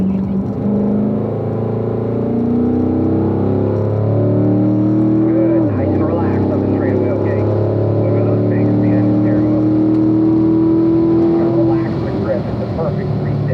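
Corvette accelerating hard on the East track at Spring Mountain, engine note rising through gears with a shift partway through, loud and close while an instructor talks over it.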